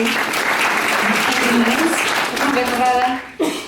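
A concert audience applauds in a dense, sustained wash of clapping, with a voice speaking over it near the end.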